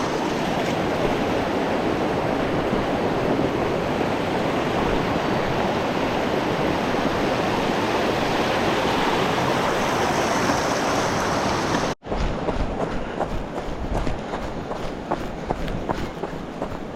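Creek water rushes over slippery rocks, a loud, dense, continuous roar close by, broken by a sudden cut and then a choppier, splashier stretch with no talking.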